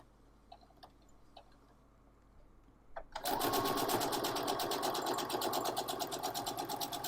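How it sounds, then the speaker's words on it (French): Faint clicks give way to a sewing machine starting up and running steadily close by, a rapid even rattle of stitching through washable wipe fabric. "on va coudre le long de cet axe"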